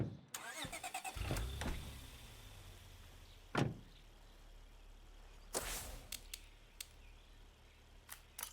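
A car in State of Decay 2 starts up, with clicks and door-like thumps early on and a loud burst of engine noise partway through, followed by short sharp in-game sounds over a low steady rumble.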